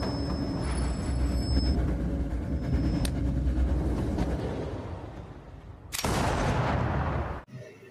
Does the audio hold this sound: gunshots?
yes